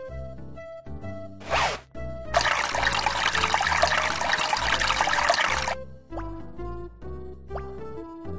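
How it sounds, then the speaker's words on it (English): In the Leisure Suit Larry 6 video game, brown water runs from a sink as a steady hiss lasting about three seconds. Game music plays around it, and a short swishing burst comes just before. "the water coming out of the sink is brown"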